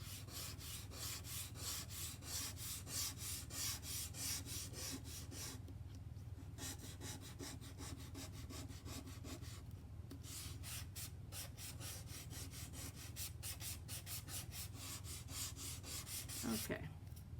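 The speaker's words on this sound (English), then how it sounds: "The back of it's sanded just a little bit." Steady dry rubbing of sandpaper across the back of a paper texture sheet, used for texturing metal clay, continuing for the whole stretch with a few brief pauses and no talk.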